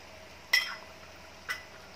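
A utensil stirs peas and boiled potatoes in a cooking pan, giving two light metallic clinks about a second apart against a quiet background.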